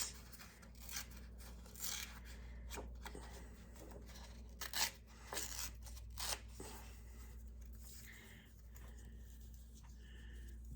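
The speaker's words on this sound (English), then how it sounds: "I'm going to tear another piece" Paper torn by hand during scrapbooking, a series of faint, short ripping and rustling sounds up close over a quiet room hum.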